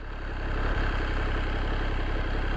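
MV Agusta Dragster RR motorcycle engine idling, a loud, close, steady rumble with an even throbbing pulse throughout and no talk.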